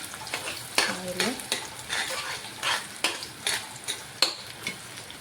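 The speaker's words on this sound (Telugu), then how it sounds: "ఇవ్వండి దొండకాయలు ఇలాగా వేపుకోవాలని" Ivy gourd pieces fry in hot oil with a steady close sizzle, broken by repeated scraping stirs of a utensil in the pan and no voices.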